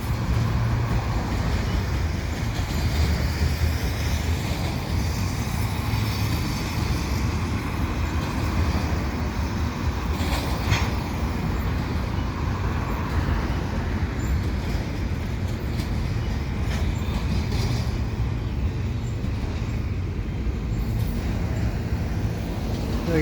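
A CP mixed freight train led by heritage SD70ACU locomotives passes, heard as a steady, loud, dense rumble and roar of rolling cars that holds evenly throughout without a clear start or end.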